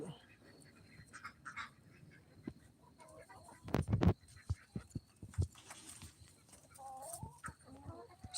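Hens on a farm during evening chores give soft scattered clucks and short calls close by, mixed with a few thumps and handling noises in a quiet setting.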